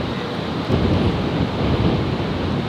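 Wind gusting across an open golf course, a loud steady rumbling roar of buffeting against the microphone with slight surges throughout.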